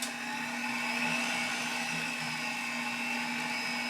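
Cuisinart stand mixer running at speed 2 while kneading pizza dough, a steady electric motor whine with a constant hum and faint rhythmic thumping, close and unbroken throughout.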